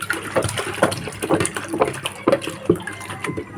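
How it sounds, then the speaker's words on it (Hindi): Water pouring into a cooking pot at home, splashing and gurgling steadily and close by for a few seconds. "मैं रोज़ाना इस तरह पानी भरती हूँ अपनी देगची में"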